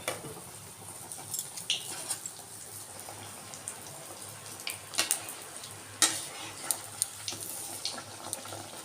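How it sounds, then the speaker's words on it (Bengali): Palm fruit malpua frying in hot oil, a soft steady sizzle with scattered pops and crackles, fairly quiet, with no voices. "আর এইভাবে আমি তালের মালপাগুলোকে ভেজে নেব"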